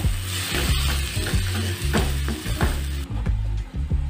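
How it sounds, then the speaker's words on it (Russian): Minced meat frying in a pan on the stove, a steady close sizzle broken by repeated scraping and clacking strokes of a utensil stirring it. "Обжариваю теперь этот фарш, пока он не подрумянится."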